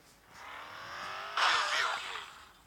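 A car in a gangster-themed video game drives and turns. The engine rises, then a sharper burst of tyre noise hits midway through the turn before fading, all in under three seconds.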